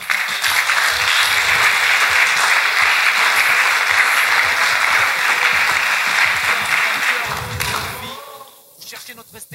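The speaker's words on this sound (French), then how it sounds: "on acclame pour lui aussi." An audience applauds steadily at a ceremony presenting diplomas and certificates to film club actors of the Congolese cinema federation in Haut-Katanga. The loud, dense clapping runs for most of the clip, then thins out near the end.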